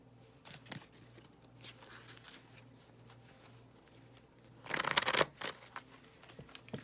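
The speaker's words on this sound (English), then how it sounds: "I'm going to shuffle them again with you guys watching just so that I can have your energies on the cards" Tarot cards being shuffled by hand, soft papery riffles and pats in brief bursts with a louder flurry near the end, close and fairly quiet with no talking.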